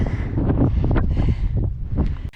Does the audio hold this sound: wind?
yes